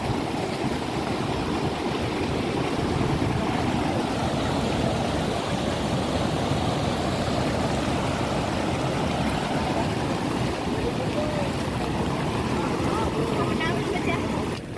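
A flooded river near Hanumangadh, swollen enough to wash out a bridge and pour off farm fields, gives a loud, unbroken rushing roar of fast water that stays close and steady throughout.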